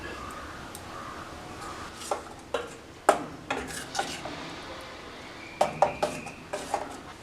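Stirring curd into cooked ridge gourd pachadi in a pot: a spoon scrapes and clinks against the metal in irregular bursts, some sharp and close, over a quiet kitchen background with a faint bird call.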